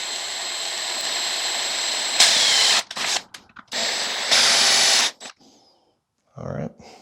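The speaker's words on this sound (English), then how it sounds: "So we're going to up the size of our drill bit." A power drill with a bigger bit bores into a car during a fire extinguisher mount install, whining in loud bursts that start and stop, separated by quieter gaps and brief clicks.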